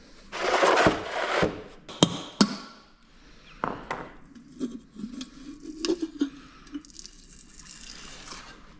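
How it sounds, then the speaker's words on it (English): Wrench work on the differential cover of a GM 10 bolt front axle: scattered metallic clicks, knocks and scraping of bolts and cover, fairly close, with a busier rasping burst at the start and quieter clatter after. "we're going to use a 1/2 inch to pull off our diff cover bolts. Our diff cover might just come off nicely here."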